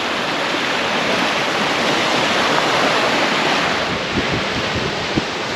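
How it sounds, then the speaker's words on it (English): Steady broadband surf washes over an empty beach on Kangaroo Island, a continuous roar of breaking waves with some wind buffeting the microphone and a few soft thumps near the end. "we've got this beautiful beach all to ourselves"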